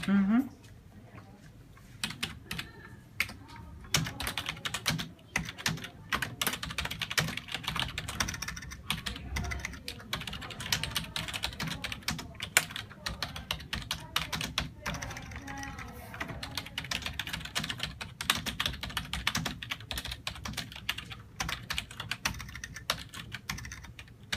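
Steady typing on a computer keyboard in an office setting, a dense run of close, rapid key clicks with short pauses, continuing for the whole stretch.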